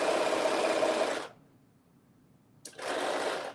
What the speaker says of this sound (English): let me sew this